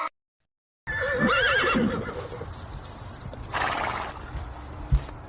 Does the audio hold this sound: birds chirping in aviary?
no